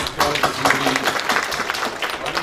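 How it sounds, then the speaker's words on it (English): Applause from an audience at a Chuka University joint faculties gathering, a steady dense patter of clapping with some murmured voices, fairly loud and continuous. "We give the Vice Chancellor a cloud of applause"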